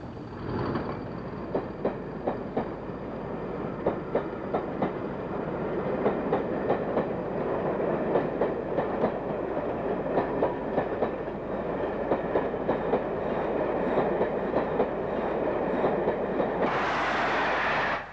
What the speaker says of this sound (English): we see Class 40 number 40167 departing for the north